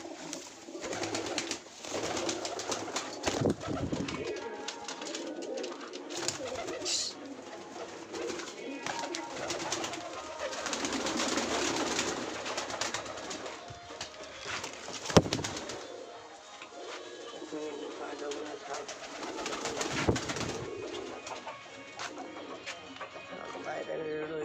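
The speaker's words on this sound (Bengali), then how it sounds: "এই কিছু পায়রা এখানে রয়েছে" Pigeons coo repeatedly close by, soft throaty calls overlapping in an irregular rhythm with some wing flutters, while a person talks intermittently over them.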